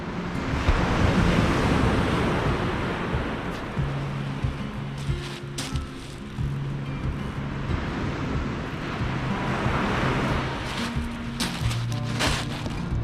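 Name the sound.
waves and wind on the Holderness coast during sea fishing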